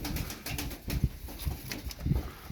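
Tumbler pigeons coo nearby in a loft, low soft rhythmic throaty calls repeating every half second or so, with no talk.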